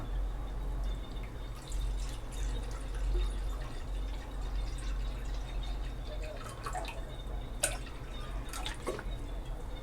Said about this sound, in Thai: ตั้งกระทะใส่น้ำลงไปจ้า